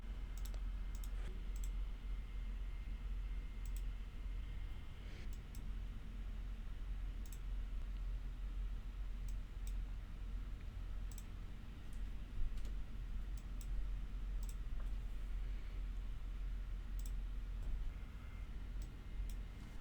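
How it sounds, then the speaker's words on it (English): Computer mouse clicks while working in ICFD++ simulation software, scattered sharp single clicks spaced irregularly over a steady low hum, close and fairly quiet, with no talking. "So we can click the database option"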